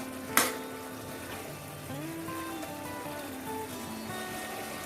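Soya chunks simmering in a pan with a splash of water, a steady bubbling sizzle with a sharp clink near the start and faint stirring scrapes throughout.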